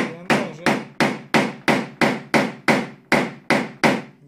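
Paintless dent repair on a Lada Granta's metal body panel: a hammer strikes a tool in a steady rhythm, about eleven sharp close knocks evenly spaced, with no talking.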